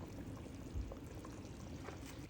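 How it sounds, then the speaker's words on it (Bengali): Fried onion tempering poured into a pot of goat trotter paya, a soft, faint, short pouring and sizzling splash up close with a small thump near the start, with no voices. "আমি ওই পেঁয়াজের বাগারটা দিয়ে দিলাম, সাথে কিছু কাঁচা আদা কুচি এবং কাঁচামরিচ দিয়ে দিলাম"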